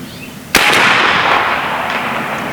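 A single loud, sharp report from a BinTac B&W S45 .457 caliber big bore semi-auto air rifle firing a slug outdoors at 50 yards, followed by a long broad rushing decay with no talk.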